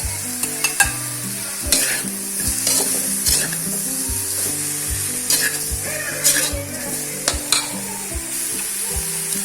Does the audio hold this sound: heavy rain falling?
no